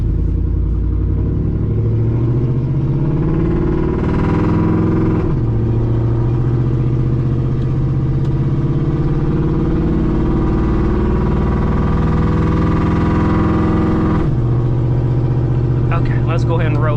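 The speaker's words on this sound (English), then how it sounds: "we're gonna get our ears rattled by that exhaust, because it is stupid loud" Loud, deep exhaust drone of a cammed GMT-800 pickup truck driving at night, steady and close with gear-shift drops in pitch, heard from inside the cab under quiet background noise.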